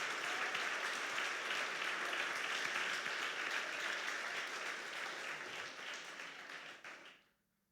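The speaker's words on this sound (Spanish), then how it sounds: "Un aplauso fuerte" A church congregation applauds during a Spanish-language sermon, dense sustained clapping filling the room at moderate level, steady for several seconds before tapering off abruptly into silence.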